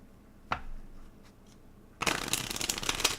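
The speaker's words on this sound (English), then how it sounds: "Think of your burn here, Elstro, while we shuffle these up." Playing cards are handled with a soft snap, then riffle-shuffled in a fast, crisp burst of flicking cards near the microphone, lasting about a second.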